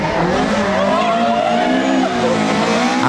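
Historic rally cars, including a Porsche, race flat out on a tarmac stage at a Barbados rally, a loud, close engine howl that rises and falls with some tire squeal throughout.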